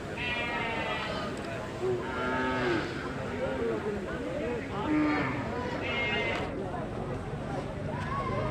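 Young bulls moo repeatedly, several long low calls rising and falling over steady outdoor background noise at a cattle market in Sylhet, with a few higher bleating calls mixed in.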